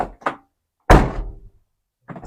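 A car door slammed hard on a 1991 Mitsubishi Galant VR4, one loud close thunk with a short ringing decay, preceded and followed by quieter knocks and handling noises.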